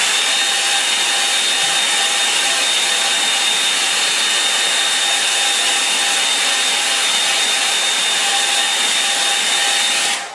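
Hair dryer blowing on a watercolour painting, a loud, steady, close roar that runs unbroken for about ten seconds with no talk.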